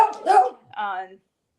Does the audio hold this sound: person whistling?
no